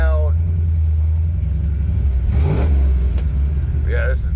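A 1986 Ford Bronco with a 460 EFI V8 and custom exhaust pipes rumbles deeply nearby and swells briefly in a rev midway, with keys jangling and people talking over it.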